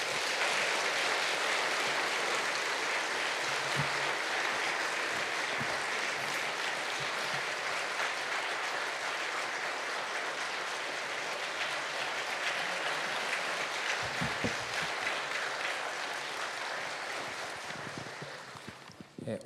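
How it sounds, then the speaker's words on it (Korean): A church congregation applauding as the pastor comes out for the Sunday sermon, a broad, even roar of clapping that holds steady for many seconds, then thins and fades at the end. "우리 목사님 나오실 때 박수로 모시겠습니다"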